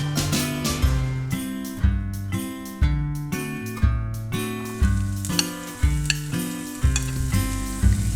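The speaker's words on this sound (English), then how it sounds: "Drop down the onions." Onions fry in a tablespoon of olive oil in a frying pan over medium-high heat, a loud continuous sizzle broken by rhythmic stirring scrapes roughly once a second, with no voices.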